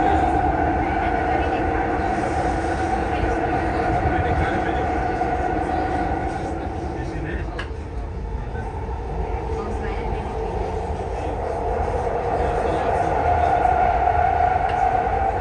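Dubai Metro train running, a continuous low rumble and hum of the carriage in motion with a steady tonal whine, dipping briefly midway before swelling again, heard from inside.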